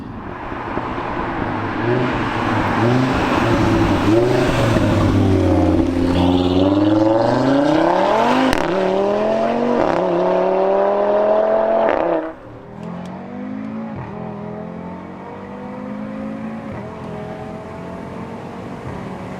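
A 550bhp Nardo Grey Audi RS3 saloon accelerates hard with all four wheels spinning on a cold winter road, its engine roaring loud and close with rising pitch before cutting sharply to a lower rumble.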